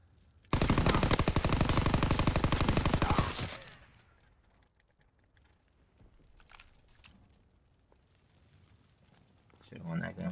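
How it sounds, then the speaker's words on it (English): Loud sustained automatic gunfire rattles for about three seconds during a gunfight in a shooter video game, then cuts off into quieter game ambience with scattered small sounds. "Should have won that gunfight."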